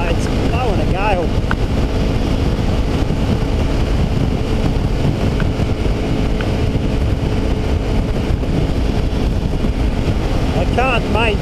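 Strong, steady gale-force wind roars and buffets against the microphone throughout, with broadband rushing noise and faint engine hum underneath from a Honda CRF250 Rally motorbike on the road near Marree, South Australia.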